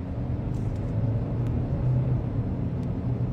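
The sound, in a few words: SUV engine revving in sport mode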